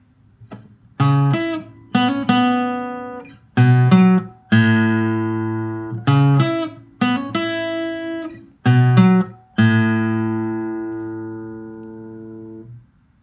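Guitar playing a riff: clear plucked notes in short phrased bursts, each ringing out briefly before the next, close and fairly loud with no talking.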